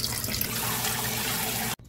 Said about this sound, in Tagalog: So, kailangan po natin banlawan ng mabuti.